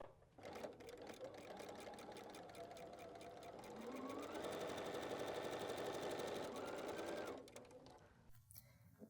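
A sewing machine stitching quilt seams with a seam guide runs steadily and close, a fast rhythmic mechanical whir that speeds up and grows louder midway before stopping near the end.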